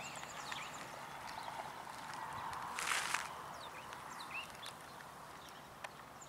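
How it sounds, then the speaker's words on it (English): Faint bird calls and chirps scattered through an outdoor early-morning scene, thin and distant over a steady background hiss, with a brief louder rustle midway. "Listening to the birds in the background"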